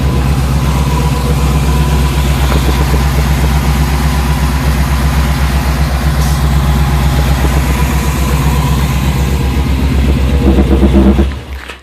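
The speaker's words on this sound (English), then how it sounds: "Flowmasters, 3-inch pipes, headers, long tubes, really deep exhaust" A 1985 short-bed Chevrolet Silverado truck engine idles steadily with a low, throaty exhaust drone through Flowmasters, 3-inch pipes and long-tube headers, loud and close, then cuts off abruptly at the end.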